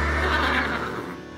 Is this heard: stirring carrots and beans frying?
no